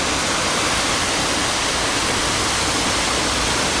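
The Lez river in Montpellier flows with a steady, close, full rushing wash of water that holds at an even loudness throughout, with no voices.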